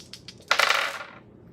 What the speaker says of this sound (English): Just to be fair, let's just roll the dice.